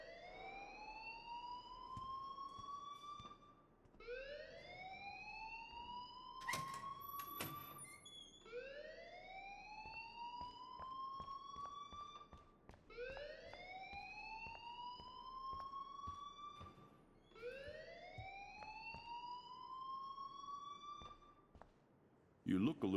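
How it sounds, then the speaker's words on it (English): An alarm sounds in the video game Life is Strange, a rising electronic wail that repeats in five steady cycles and fills the scene at moderate loudness. "please turn off that alarm since that's your job"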